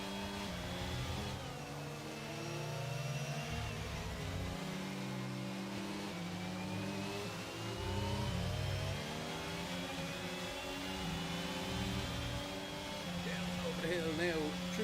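Formula 1 car engine in a racing video game at the Portimao circuit in Portugal, droning steadily with shifting revs and whining pitch throughout, heard under continuous commentary talk.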